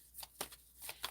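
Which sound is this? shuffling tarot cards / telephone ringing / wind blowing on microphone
shuffling tarot cards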